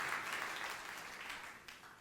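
A church congregation claps in steady, fairly quiet applause that runs throughout without pause.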